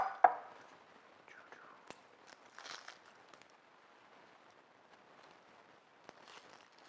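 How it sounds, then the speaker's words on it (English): A knife chops a red onion into small pieces for a mayo-free potato salad, giving a sharp first cut followed by faint, scattered knocks and crunches on a board. "So first we have to chop our onions."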